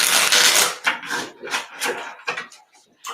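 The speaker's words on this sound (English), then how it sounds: "these cards feel like all business as I'm shuffling them" Tarot cards shuffled by hand, giving a string of close, papery riffling bursts in an uneven rhythm that thin out toward the end, with no voices.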